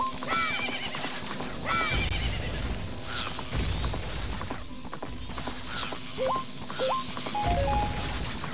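Horse riding in the Nintendo game Majora's Mask on GameCube, with repeated whinnies and neighs and steady clip-clop hoofbeats over busy game music and effects, no talk.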